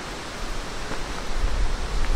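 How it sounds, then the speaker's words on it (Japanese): Strong wind gusts sweep across a hillside castle ruin, a steady broadband roar that swells slightly louder toward the end, with no voices. "多分風の音だと思うんですけど、"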